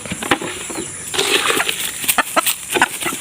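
Backyard chickens cluck and murmur close by in a series of short, uneven calls, with faint rustling around them.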